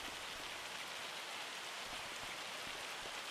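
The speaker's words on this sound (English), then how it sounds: "all we can do now is basically wait for the hail to stop destroying the crop" Hail pelts crops in Farming Simulator 25, a dense, even hiss of countless small impacts that carries on without a break, fairly soft and with no talking.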